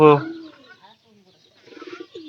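A brief voice-like call opens, then after a quiet pause a pigeon gives a low, soft burbling coo nearby.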